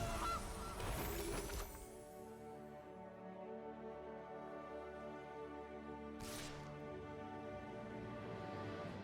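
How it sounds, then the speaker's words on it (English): A goose honk plays as a sound effect in the MTG Arena card game. There is a brief noisy burst first, then a long, resonant, nasal honk that sustains for several seconds with a soft swell near the middle. "There's another goose."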